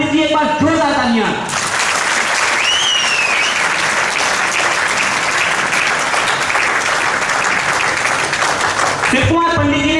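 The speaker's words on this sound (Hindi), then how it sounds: "एक बार जोरदार तालियां।" After a brief spoken call, a large audience bursts into loud, sustained applause, a dense roar of clapping that holds steady for several seconds before a voice returns at the end.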